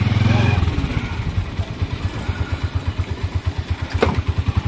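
A motorized tricycle engine thumps with a steady, rapid chugging pulse, close and prominent, on a night ride in Santa Lucia, Pampanga, Philippines. It starts with a brief louder rev and settles into an even putter.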